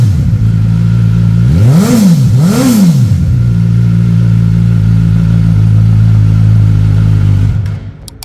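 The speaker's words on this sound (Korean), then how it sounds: "머플러 소리가 순정 머플러인데 굉장히 좋습니다" A 2020 Suzuki GSX-S1000 motorcycle with its stock muffler idles loud and close, then gets two sharp rising-and-falling throttle blips before settling back to a steady idle, with no one talking.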